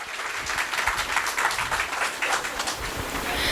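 Audience applause rewarding children who recited poems at an Ambedkar remembrance celebration, a steady dense wash of clapping from a crowd lasting the whole stretch without talk.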